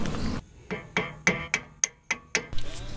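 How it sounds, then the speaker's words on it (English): Flathead screwdriver prying a brake caliper pin out on a 1986 Volvo 240, a close series of about eight sharp metallic taps and clinks at an uneven rhythm. "just get a flathead to pry the pin all the way out"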